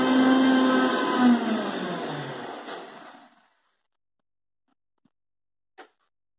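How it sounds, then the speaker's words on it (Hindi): A mixer grinder blending raw mango and mint chutney whirs loudly for about three seconds, its motor pitch sliding down as it winds to a stop, followed by silence and a faint click. "अभी मैं मिक्सी को चला के लेके आ रहा हूँ"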